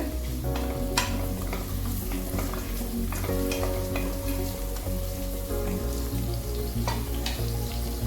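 Whole cashews sauté in a pan over a medium flame for ghee rice, with a dense continuous sizzle and occasional stirring clicks and taps, and no voices.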